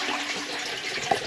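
Toilet flushing in a clean bathroom at a newly opened campsite, a short close rush of running water with a brief splash near the end.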